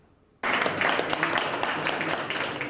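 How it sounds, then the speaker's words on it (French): An indoor audience breaks into steady, dense applause after a brief quiet moment, marking the launch of a youth employment guarantee scheme at a local job-support agency in French Guiana, and the clapping holds at an even level to the end. "Des applaudissements qui accompagnent la mise en place du dispositif de la garantie jeune pour la mission locale."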